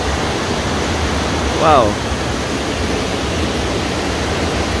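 A swift river rushes through forest at a sacred site, a loud, steady broadband roar filling the whole span, with a brief exclaiming voice partway through.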